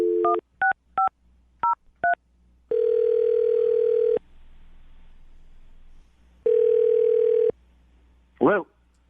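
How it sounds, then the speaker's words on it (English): A telephone being dialed for a radio call: a quick run of touch-tone digit beeps, then long steady tones with a pause between them, ending in a short warbling electronic sound, loud and close. "I'm going to dial the phone number right now."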